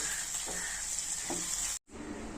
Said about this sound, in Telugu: వంకాయలు చెదిరిపోకుండా అలా కదిలిస్తా కొంచెం ఈ మిగిలిన మిశ్రమాన్ని కూడా అలా కలిపేసామంటే